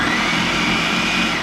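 Blender whirring through plantains, a loud dense continuous motor roar up close, with no voices.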